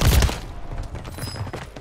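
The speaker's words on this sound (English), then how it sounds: "I'm getting shot from so many directions" Video game gunfire as a dense, close burst of shots from several directions, with a heavy thump at the start and rattling reports continuing after.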